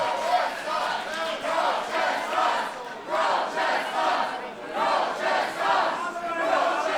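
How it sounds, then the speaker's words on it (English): A wrestling show crowd roars for the wrestler Crowchester in rolling waves of chanting and shouting, loud and sustained with rhythmic surges and brief dips between them. "Crowd up firmly behind Crowchester"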